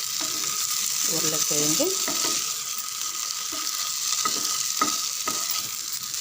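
Masala potato mixture for urundai frying in a pan as a spoon stirs it, with a steady sizzle, scraping strokes and occasional clinks against the pan, close up, while a voice briefly speaks.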